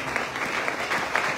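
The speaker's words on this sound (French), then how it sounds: "Est-ce qu'on peut acclamer pour la parole?" A church congregation claps together in steady, dense applause that fills the room throughout, with no voices standing out.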